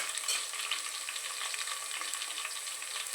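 Curry leaves and mint leaves sizzle steadily in hot oil in a pan for a village-style country chicken curry, a continuous crackling fry with no talking.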